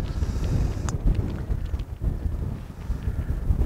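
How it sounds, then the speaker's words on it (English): Wind gusting across an open golf course, a steady broadband rush of microphone buffeting that rises and falls for the whole stretch, with no talk over it. "Oh, the wind's getting up."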